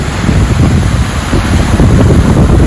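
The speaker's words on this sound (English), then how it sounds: "the waves crashing in on the rocks" Ocean waves crashing on rocks near Point Arena, California, a steady loud roar of surf with heavy wind buffeting the microphone throughout, no voices.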